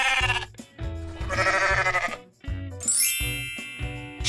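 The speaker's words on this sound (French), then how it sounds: "Mouton." Several sheep bleat in a row, wavering cries close by, with a bright jingling ring near the end.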